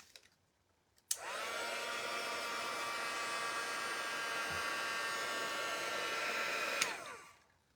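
A hair dryer clicks on and blows in a loud, steady whoosh with a faint whine over a freshly painted mailbox, running about six seconds before clicking off.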